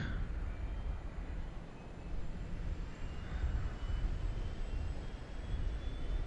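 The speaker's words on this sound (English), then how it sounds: "The APU is actually located in the wheel well of the aircraft." A Boeing 727 auxiliary power unit in Microsoft Flight Simulator runs as a steady, close jet-like drone with a low rumble and a faint high whine, holding at an even level throughout.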